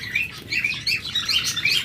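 Busy, continuous chirping and tweeting from many small cage birds, overlapping calls at fairly close range with no voices.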